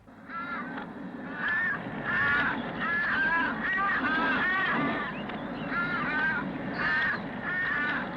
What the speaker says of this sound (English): within seconds, crows gather overhead,